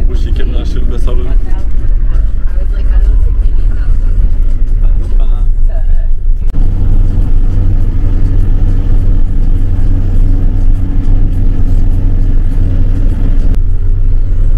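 Minibus engine rumbling steadily on the road back to Antigua, Guatemala, a continuous low drone filling the cabin with voices talking over it throughout.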